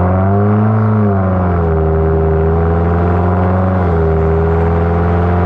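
A Subaru WRX engine with an AWE Track exhaust and ETS intake drones loud and steady with a deep exhaust tone, its pitch dipping and shifting slightly as the revs change.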